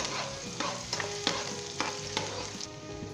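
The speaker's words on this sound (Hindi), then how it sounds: "दोस्तों 2 मिनट तक हम इसे लाइट गोल्डन ब्राउन करेंगे, सरसों के ऑयल के अंदर अदरक को और प्याज को" Ginger and onion fry in mustard oil in a pan for a Bengali aloo gobhi, giving a steady close sizzle broken by several sharp scrapes and knocks of a stirring spoon.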